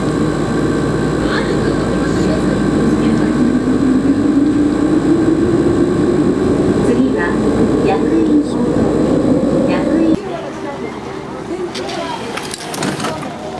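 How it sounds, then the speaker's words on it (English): A Fukuoka subway train arrives at an underground station, a loud steady rumble with a rising whine as it pulls in, ending in an abrupt drop to quieter station ambience, with talking nearby. "Here comes my train."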